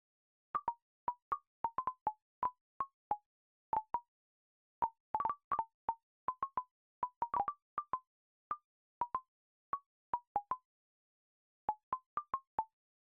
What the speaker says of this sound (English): They'll all be this little pop sound.